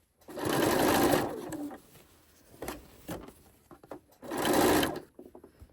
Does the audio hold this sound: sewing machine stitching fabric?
yes